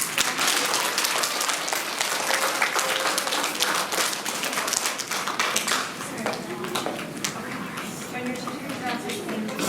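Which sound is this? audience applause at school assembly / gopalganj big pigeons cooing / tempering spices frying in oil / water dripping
audience applause at school assembly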